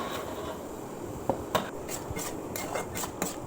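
Wheat flour dough worked by hand in a bowl, a soft continuous rubbing and pressing with a few light taps and knocks against the bowl, close and fairly quiet with no talking.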